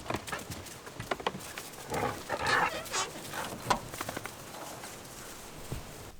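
Dogs at a lodging property shuffle about and make soft, faint whimpering and scuffling noises, with paws moving and sounds coming intermittently at close range.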